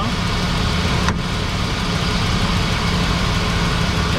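A GMC Savana van's 6.0L engine idles after a cold start, a loud steady low rumble close by with the revs easing down, a single sharp click near the start.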